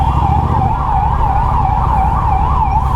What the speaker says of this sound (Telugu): ఒక అంబులెన్స్ వస్తుంది వెనకాల,